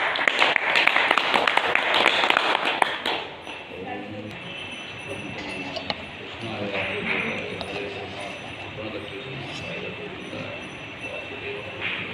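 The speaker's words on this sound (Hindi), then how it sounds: "आप सभी से जोरदार ताली की गुजारिश।" Loud applause from an audience at a Bhagavad Gita group gathering fills the first three seconds, then fades into a quieter, murmuring room with scattered voices.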